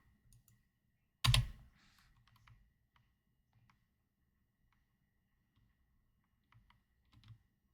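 A single sharp computer keyboard Enter keypress, close and fairly loud, followed by a few faint clicks and soft background ticks in an otherwise quiet room.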